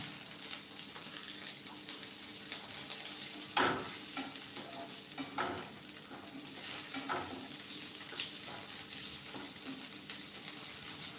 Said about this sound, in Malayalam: ഇതിൽ നമ്മളിവിടെ അരിഞ്ഞു വെച്ചിട്ടുള്ള തക്കാളി കൂടി ഇട്ട് കൊടുക്കട്ടെ